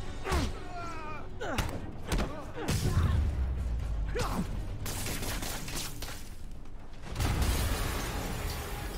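Several heavy booms and crashing blasts from explosions in the video game Marvel's Spider-Man, with scattered debris and mechanical clatter, arriving in bursts a few seconds apart, with brief voice-like cries early on.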